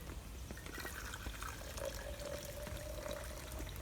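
Hot water from a kettle pours steadily into a cup for herbal tea, a soft continuous trickle and gurgle at low volume with no speech.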